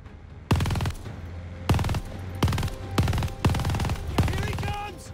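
Turret machine gun firing in Call of Duty: Vanguard, set at Tobruk: five loud, separate bursts of rapid automatic fire, each lasting about a quarter to half a second, spaced roughly a second apart, with faint game ambience between them.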